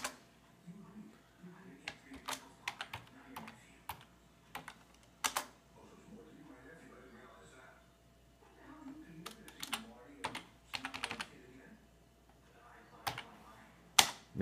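Keys clatter on a computer keyboard as a username is typed, with short bursts of clicks separated by pauses and a quiet background hum.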